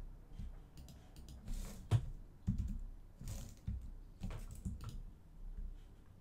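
Square bracket keys on a computer keyboard being pressed while resizing a brush in an image editor, giving a quick irregular run of close, soft plastic clicks and taps with a couple of sharper presses.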